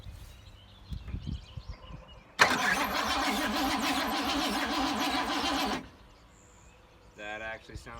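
A 1986 Ford F-150 that has sat for 20 years cranks over for about three seconds, its starter turning in a steady, loud, rhythmic churn that cuts off abruptly, with quiet handling noises before and after.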